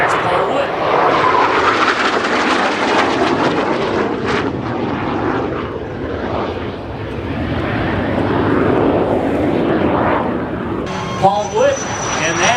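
A 70-year-old Corsair warbird propeller plane roars past in a high-speed review at an airshow, a loud sustained engine drone that swells and holds, with an announcer talking over it.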